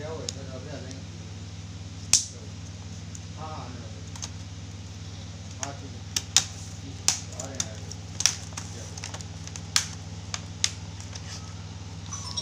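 A new keyboard being fitted into a laptop at a repair shop, with sparse sharp clicks and taps as it seats, spaced irregularly over a steady low hum, with someone speaking early on.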